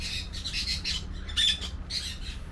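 Canary-winged parakeets squawk loudly in repeated harsh bursts, several calls overlapping in quick succession against a low background rumble.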